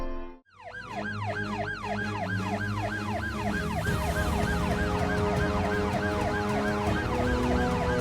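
An ambulance siren wails in steady repeating rising-and-falling sweeps, loud and close, continuing without pause over traffic rumble, with no talk.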